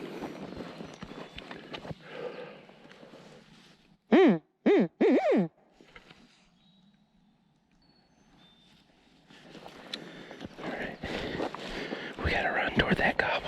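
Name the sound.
hunter imitating owl hoot to locate turkeys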